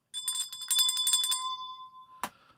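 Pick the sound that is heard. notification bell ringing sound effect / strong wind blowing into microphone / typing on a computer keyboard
notification bell ringing sound effect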